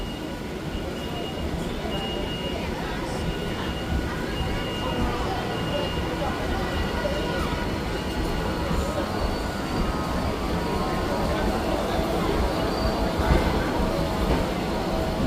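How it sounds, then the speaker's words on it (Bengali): A local train leaves platform 1 at Bongaon Junction, with steady rumbling of wheels on rails and car movement that builds gradually and has faint squeals, heard from on board with people talking in the background. "আমাদের ট্রেন বনগাঁ জংশনের 1 নম্বর প্ল্যাটফর্ম ছেড়ে চলে যাচ্ছে"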